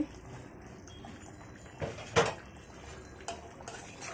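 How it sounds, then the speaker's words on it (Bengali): A lid lifted off a pot of simmering beef kala bhuna, giving a short metallic clink and scrape of the lid against the pot rim, close and moderately loud over a quiet kitchen background. "ঢাকনাটা তুলে নিচ্ছি।"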